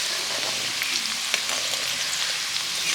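Herbs and hair oil ingredients heating in oil over a low flame, producing a steady, gentle frying sizzle with faint crackles, close and continuous with no voices.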